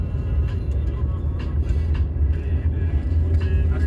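Road traffic at a bus stop: a steady, close low rumble of passing engines with a continuous drone, faint clatter and hiss on top, and no clear break throughout.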